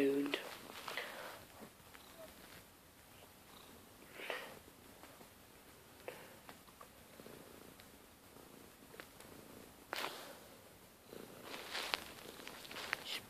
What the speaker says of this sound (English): Purring again.